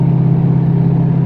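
Ford Powerstroke diesel truck engine pulling hard uphill in third gear with about 19 psi of boost, a steady loud low drone close by with no break or talk.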